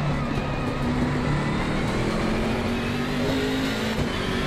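A BMW M6 GT race car engine in Assetto Corsa Competizione holds full throttle at the Nurburgring, a loud, steady, close droning roar with a rising pitch, with no talk over it.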